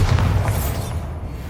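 A Bombarda blasting spell exploding in the video game Hogwarts Legacy: a single deep, rumbling boom with a crackling burst that quickly fades away.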